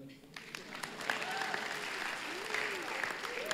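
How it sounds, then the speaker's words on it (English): A church congregation applauds steadily for a few seconds, a dense wash of many hands clapping at moderate distance, with a few voices calling out faintly underneath. "Maybe clap again so I can have a drink."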